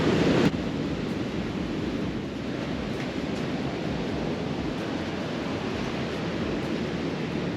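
Steady roar of surf washing onto a shore, continuous and fairly loud, with wind buffeting the microphone throughout; no voices.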